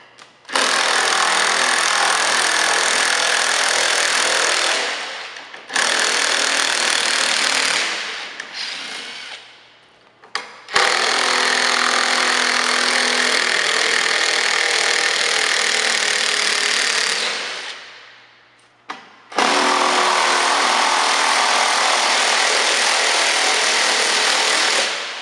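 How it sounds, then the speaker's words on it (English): An impact driver runs in several long, loud, sustained bursts as it removes 17mm bolts while a HAPPY HCD3-1501 machine is uncrated. Short pauses separate the runs, and the tool is close with no talking. "These are 17mm bolts, and we can remove them with the same impact driver"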